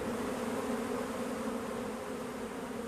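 A honeybee colony buzzes in a dense, continuous hum, steady and close, with many wings blending into one droning tone and no voices.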